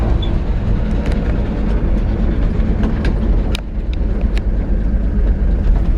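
A 1948 Chevrolet 5-Window with a manual transmission rolls along, its interior filled with a constant low road rumble and engine drone, with occasional light rattles and clicks.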